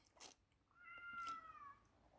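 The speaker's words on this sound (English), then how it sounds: "It's my cat." A cat meows once in a clear, drawn-out rising and falling call, faint and close against a quiet room, with a couple of soft rustles before it.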